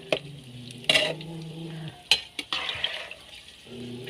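Skewered banana cue frying in hot oil while being stirred, a soft steady sizzle broken by several sharp clinks and scrapes of a utensil against the pan, fairly quiet with no talking.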